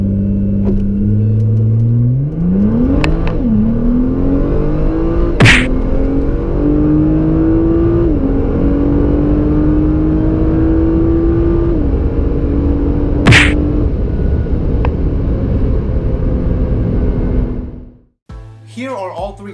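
A Nissan GT-R launches from a standstill with its transmission in R mode, the engine rev-limited to about 2000 RPM. The engine roars loudly as it climbs through rising revs, with brief gear-change breaks, then cuts off abruptly near the end.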